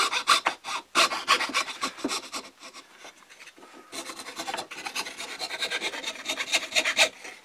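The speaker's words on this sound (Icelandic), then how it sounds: "Og nú er bara saga út í hornið." Wood being hand sawed into a corner, a rough rasping rub repeating in steady back-and-forth strokes, close and fairly loud, with a brief pause midway before the strokes resume.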